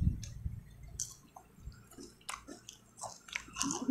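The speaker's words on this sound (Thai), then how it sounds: "ฟังเสียงเคี้ยวครับ" Close, crunchy chewing of fried yellowtail fish dipped in peanut sauce, with repeated bites and moist squishing sounds at an irregular pace and no talking.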